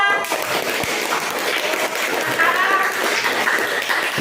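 A dense wash of clapping from a class of primary school children fills the clip at a steady level, broad and continuous, with some voices mixed in.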